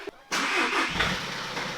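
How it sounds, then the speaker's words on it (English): A VW Golf MK7 van cranks and catches on a cold start, a short starter burst followed by a close, steady engine running up and settling, with no talking over it. "Cold start."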